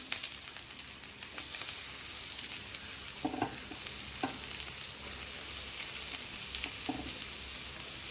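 Sliced big onions sauté in sesame oil for a mango curry, a steady, quiet sizzle with a few soft clinks of stirring, and no one speaking.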